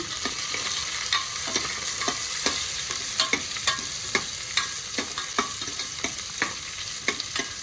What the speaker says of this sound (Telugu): కరివేపాకు వేసి ఆనియన్ కూడా వేసేసుకుంటున్నాను. అన్నీ వేసుకొని మంచిగా కలిపేసుకోవాలి.